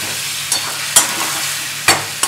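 Boiled potatoes and eggs cook in a curry pan, giving a steady close sizzle that is broken by a few sharp scrapes of stirring. No one speaks.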